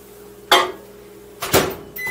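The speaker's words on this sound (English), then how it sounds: "I'm going to microwave these to loosen," A kitchen microwave oven heats chocolate morsels to soften them: two sharp mechanical clunks about a second apart, likely the door or controls, over a low steady hum, close by and with no talking.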